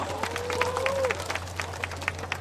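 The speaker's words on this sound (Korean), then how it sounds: "박수해주십시오" A small audience claps to welcome a whistling performer onto the stage, scattered individual claps over a low hum, with a brief voice heard early on.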